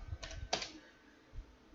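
A few quiet, close computer keystrokes land in two brief bursts, then a faint lone tap follows after a pause, with soft room hiss between them and no voice.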